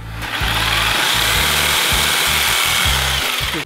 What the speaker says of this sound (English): let me pick up my Sawzall here and get to cut in once again